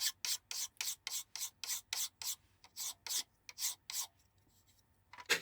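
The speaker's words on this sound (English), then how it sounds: "I could get to filing the outside and then the inside, sort of like the teeth, using a round file" Round file rasping along the edge of a handmade cake knife in a workshop: a steady series of about fifteen short, bright strokes in a regular back-and-forth rhythm, close and clear with brief pauses, no talk.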